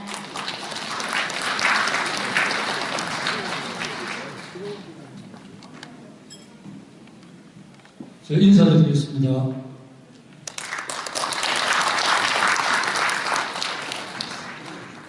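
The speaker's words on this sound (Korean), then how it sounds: "박수로 모시겠습니다" A lecture audience in a hotel convention hall in Gumi applauds to welcome the speaker, with dense clapping at the start, a pause for a short spoken greeting, then a second strong round of clapping.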